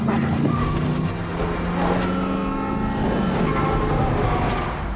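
Dense highway traffic of cars driven by professional stunt drivers on a film set, with stunt vehicles racing against the flow; a loud, steady roar of engines and passing cars with revving and rumbling throughout, no voices.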